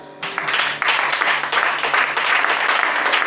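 Applause breaks out in a church service, a dense wash of many hands clapping that starts abruptly and holds steady, fairly close and loud, with no voices standing out.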